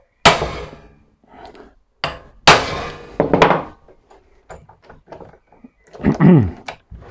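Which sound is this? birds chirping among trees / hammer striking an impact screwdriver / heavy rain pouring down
hammer striking an impact screwdriver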